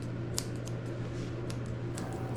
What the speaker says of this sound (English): I'm using my curved scissors to make his mustache nice and round.